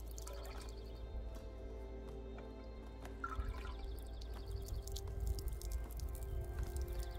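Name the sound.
water poured from a small vessel during baptism ceremony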